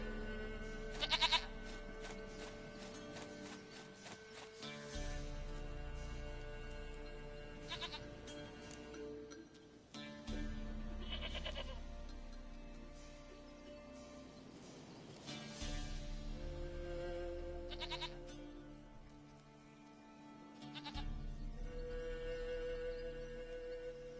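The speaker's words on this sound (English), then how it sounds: "Goat of mine, dearest," Goat bleats in The Witcher 3, several short cries spread across a layered backdrop of game music and ambience, moderately loud and mixed with other in-game sounds.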